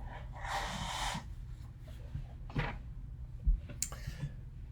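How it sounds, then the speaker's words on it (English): A close, noisy nose blow, followed by a few softer sniffs and snorts over low background hum. "I have to blow my nose again."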